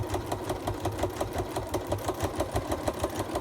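A sewing machine runs steadily while stitching down a Santa pot holder, its rapid needle chatter forming a fast, even mechanical rhythm, close and moderately quiet with no voices.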